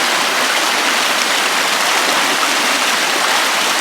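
Creek water flowing and splashing through a log jam at Lake Padden, a loud, steady, dense rushing hiss that stays constant with no talk.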